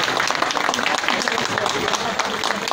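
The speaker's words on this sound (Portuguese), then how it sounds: "Vamos aplaudir a banda municipal do Mundial." Crowd applause for a municipal band at a civic parade in Holambra, a steady dense wash of clapping filling the whole stretch without a break.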